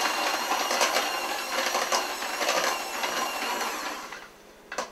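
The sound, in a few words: electric mixer mashing cooked potatoes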